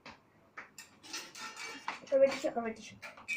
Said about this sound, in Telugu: ఇప్పుడు నేను ఒక స్పూన్ తీసుకున్నా. తర్వాత ఇప్పుడు నేను మిక్సింగ్ చేస్తున్నా.